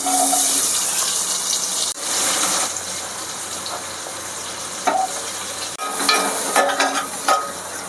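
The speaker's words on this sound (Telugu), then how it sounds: "మనం ఇప్పుడైతే ఉల్లిపాయలు వేసేసుకుంటున్నానండి నేను" Onions fry in a pan for Mughlai egg curry, giving a continuous hissing sizzle with intermittent stirring and clattering sounds.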